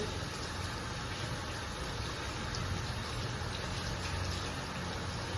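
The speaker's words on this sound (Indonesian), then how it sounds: "Terus hidupin keran lagi. Cuci sampai bersih." A tap runs steadily for washing, a continuous broadband hiss of flowing water that stays even and fairly loud throughout with no voices over it.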